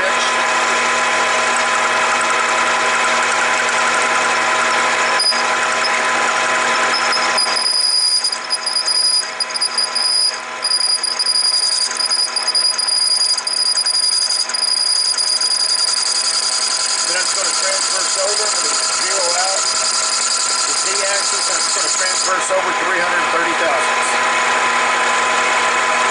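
A lathe plunge-cuts brass stock with a steady mechanical whine and hum, a continuous close drone that shifts slightly in tone as the cut proceeds, with brief clicks along the way.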